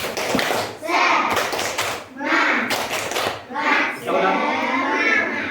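Classroom of children performing the rhythmic 'tepuk semangat' clapping chant, bursts of patterned group claps alternating with chanted voices in a lively, close room.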